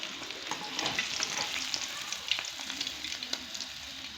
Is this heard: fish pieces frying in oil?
yes